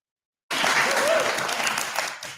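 A crowd at a rally breaks into loud, sustained applause after a short silence, dense clapping filling the space with scattered voices mixed in before it slowly tapers.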